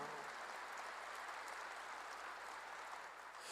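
Congregation at a church service applauds in a steady, dense wash of many hands, sustained and fairly distant, with no talk over it.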